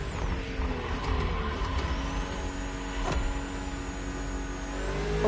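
BMW M2 and M4 cars race in The Crew Motorfest with a steady, sustained engine drone and mechanical whine. A short sharp click lands midway, and no voices are heard.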